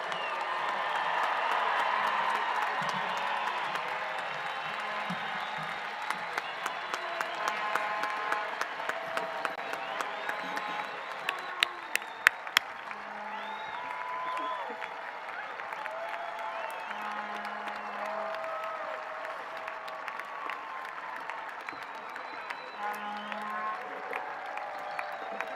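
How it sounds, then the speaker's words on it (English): A high school commencement crowd applauds and cheers its graduates, a broad, sustained wash of clapping with occasional whoops and some sharp nearby claps, continuing at a steady level throughout. "Let's give all our graduates a huge round of applause."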